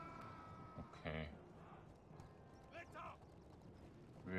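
Faint horse hooves clop in Medieval 2 Total War with the Stainless Steel mod, a few quiet bursts of hoofbeats under voices talking.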